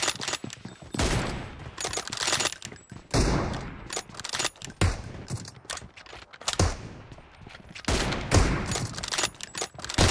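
Dense, loud gunfire in a sniping video game, with rapid bursts and single cracks following one another almost without pause for the whole stretch.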